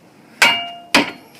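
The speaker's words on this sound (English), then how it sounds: "As we hammer that in, it reinforces the fence post." Two sharp, ringing metal strikes about half a second apart as a hammer drives a Simpson Strong-Tie E-Z Mender steel bracket onto a broken wooden fence post, each hit close and loud with a short metallic ring.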